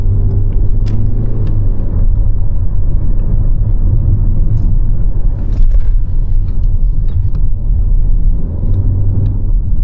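A 2024 Ford Focus 1.5 EcoBlue Titanium sedan is driven fast through a sharp corner, with a steady low engine and road rumble heard from inside the cabin and a few faint clicks and knocks over it.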